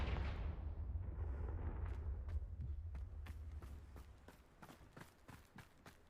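A Confringo explosion spell in a wizarding video game: a deep, rumbling blast that swells and decays over a few seconds, followed by a run of faint, sharp crackles and impacts.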